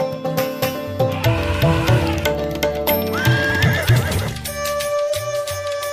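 Horses neigh loudly and repeatedly while hooves clip-clop in a steady rhythm, in a grand decorated procession with elephants, the whinnies rising and falling over the hoofbeats.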